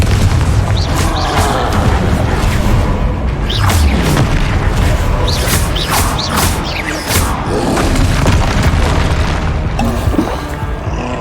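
Confringo fire-blast spells exploding in rapid succession during Hogwarts Legacy combat, loud repeated booms and crashes layered over busy game music and effects with no gaps of quiet.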